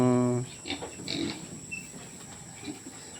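A short pig squeal or grunt opens, followed by quieter snuffling and shuffling sounds close by.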